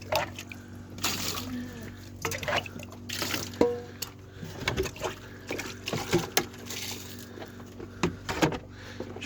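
Water being poured out for a herd of goats on a farm in the evening, heard as intermittent trickling and splashing bursts, close and moderate, with faint background voices and farmyard movement throughout.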